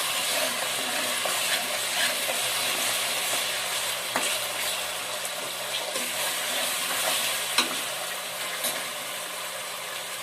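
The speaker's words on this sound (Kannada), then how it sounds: "ಈಗ ಬೇಗ ಫ್ರೈ ಆಗುತ್ತೆ ಅಂತ ಈರುಳ್ಳಿ ಶುಂಠಿ ಬೆಳ್ಳುಳ್ಳಿ ಪೇಸ್ಟ್ ಎಲ್ಲ" Onion with ginger-garlic paste and a pinch of salt fries in a pan for a pea and cauliflower masala gravy, giving a steady close sizzle with occasional stirring scrapes.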